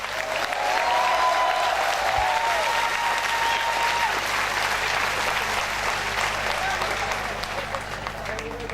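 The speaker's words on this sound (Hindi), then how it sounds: "ठोको ताली।" A large college audience applauds loudly and steadily, the clapping swelling early and holding dense through most of the stretch before easing slightly toward the end, with cheering voices mixed in.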